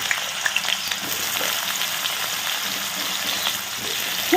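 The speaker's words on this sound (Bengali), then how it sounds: "বেগুনটাকে আমি তেল নিয়ে নিচ্ছি, সর্ষের তেল, গরমও হয়ে গেছে, বেগুনটা আমি ভেজে নিচ্ছি।" Eggplant pieces frying in hot mustard oil, a steady close sizzle and crackle with a few sharper pops, continuous throughout with no voices.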